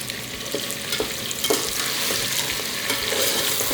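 Beef frying with ginger garlic paste for nihari gives a dense, close sizzle with occasional spoon scrapes and stirring clicks, heard alone without talk.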